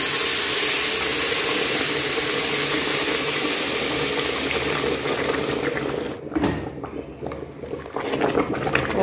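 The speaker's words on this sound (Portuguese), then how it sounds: "eu vou colocando água aqui no arroz." Water is poured into a pot of rice that has been frying and is starting to catch on the bottom, giving a loud hissing, bubbling rush that eases into spattering and gurgling toward the end.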